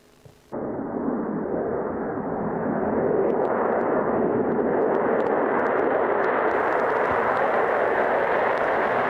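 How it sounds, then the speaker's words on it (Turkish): A loud, sustained engine roar from the Turkish KAAN fighter jet kicks in abruptly and holds steady, broad and rumbling with a hissing edge, no voices. "Bakalım nasıl bir sesle gökleri inletiyor Kaan uçağımız birlikte izleyelim"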